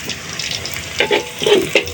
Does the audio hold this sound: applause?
no